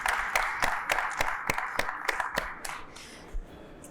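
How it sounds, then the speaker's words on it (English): A conference audience at a blockchain summit opening claps in a round of applause, heard as a steady series of sharp, evenly spaced claps over a roomy hall hum that gradually thins out. "I think it deserves another round of applause"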